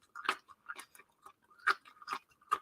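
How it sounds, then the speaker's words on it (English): Close, quiet crunching as someone chews a mouthful of stir-fried vegetables with beef, black bean and cashews, in soft irregular crisp bites with near silence in between. "I don't know if you can hear too, like my veggies and my stir fry are crunchy."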